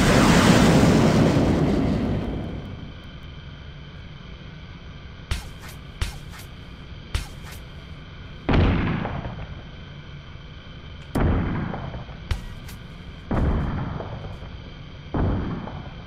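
Gunfire and explosions in the combat game Nuclear Option: a big opening blast rumbles away, then a few sharp cracks and several spaced heavy booms ring out against a quiet background hum.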